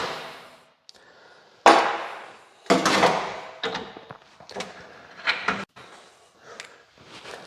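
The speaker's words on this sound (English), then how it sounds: "And we center punch this bolt so that this will go and be able to have a spot spread a little nicer." A hammer strikes a center punch against a bolt during the teardown of a 351 Windsor engine, giving a few sharp separate metallic hits with quiet gaps between them, up close.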